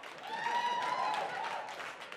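Audience at a live comedy show at Gotham Comedy clapping and cheering, a sustained wash of applause with a voice rising over it, fading slightly toward the end.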